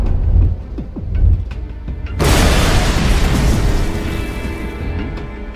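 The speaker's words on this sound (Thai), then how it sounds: "เตรียมตัวให้พร้อมนะเราจะกดระเบิดรถพวกมัน" Faint thuds give way to a sudden loud car bomb explosion in an action film that bursts across the whole range, followed by a long, rumbling roar of debris fading slowly.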